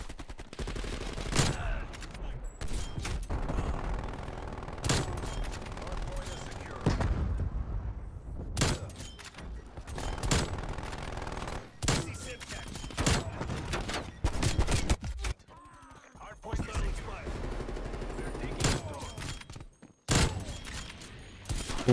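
Heavy gunfire in the Call of Duty: Cold War video game: loud automatic bursts and sharp single shots come in repeated clusters, with short pauses between the volleys.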